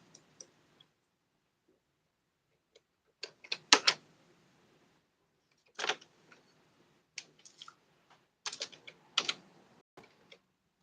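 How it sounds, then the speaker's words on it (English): Someone types on a computer keyboard: scattered single key clicks, then quick irregular bursts of close, crisp tapping separated by pauses, with no talking. "just typing to yourself"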